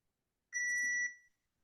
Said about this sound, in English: what the fuck is that beeping?